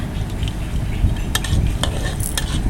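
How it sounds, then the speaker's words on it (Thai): Garlic sizzles steadily in hot oil over low heat as a utensil scrapes and stirs it around the pan, with occasional light clinks. "ใช้ไฟอ่อนๆนะคะ ผัดให้ไม่ต้องไหม้นะคะ"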